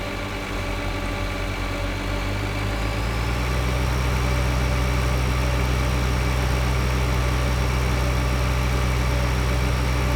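A tractor engine in Farming Simulator 2013 revs up as the mower switches on, climbing from idle to a higher steady drone that holds loud and constant with a continuous low hum and no talking.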